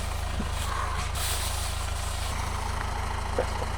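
An engine idles at a steady low rumble while warming up outdoors at an off-grid cabin site in the rain, with a few faint clanks over the constant drone.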